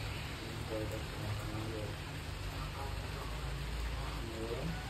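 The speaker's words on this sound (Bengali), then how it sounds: "হেভি বৃষ্টি হচ্ছে।" Heavy rain pours down steadily in cold weather, a dense, even hiss of drops on surfaces with a low rumble beneath, constant and close for the whole stretch, while faint talk sits underneath.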